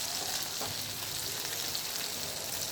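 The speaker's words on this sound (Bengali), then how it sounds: "দেখুন, কেটে রাখা শশাটা এবার দিয়ে দিচ্ছি" Fried potatoes sizzle in a pan as cut cucumber goes in, a quiet, even hiss with a few faint stirring sounds, close but low in level.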